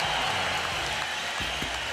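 A boxing crowd rises to its feet and cheers after a furious round of Jermain Taylor vs Kelly Pavlik in 2007, a broad, loud roar of arena noise sustained throughout.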